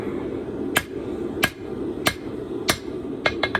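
Sharp metallic hammer strikes on an anvil, forging the tang of a billhook trench sword, ring out about one every two-thirds of a second, ending with a quick burst of three blows over a low background hum.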